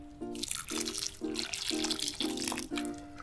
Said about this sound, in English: I'm going to mix this dirt with this water.